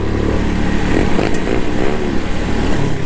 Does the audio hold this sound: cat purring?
no